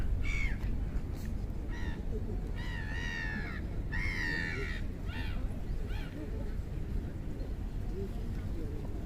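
A lone bird, apparently a crow, calls several times in a row outdoors on a Tokyo street between Ueno and Asakusa, the calls standing out over steady city noise and traffic rumble.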